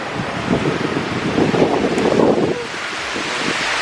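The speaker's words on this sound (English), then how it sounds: "That is windy" Strong wind buffets the microphone on a night street in Sydney in a continuous rumbling roar, with a broad rushing noise that swells midway and eases slightly toward the end.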